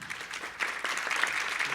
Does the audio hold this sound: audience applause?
yes